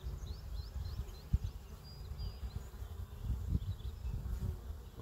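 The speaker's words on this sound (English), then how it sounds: "There's a bunch of bees just looking for the queen on the lid." Honey bees crawl and buzz on a garden hive lid, a low steady hum from many bees up close with faint birds chirping in the background.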